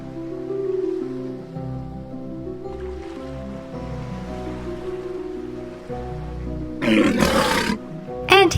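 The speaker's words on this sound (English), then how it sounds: "Walruses live in the cold Arctic areas and have thick layers of blubber to help keep them warm." A walrus gives deep, drawn-out moaning roars in a cold Arctic sea setting, with surf-like splashing bursts toward the end and no talk during the calls.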